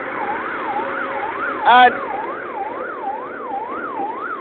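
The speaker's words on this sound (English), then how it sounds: "You can hear the siren." An emergency siren wails in a steady rising and falling cycle, heard from inside a moving car on the road, fairly loud, with a brief sharp beep or horn burst partway through and a word spoken briefly.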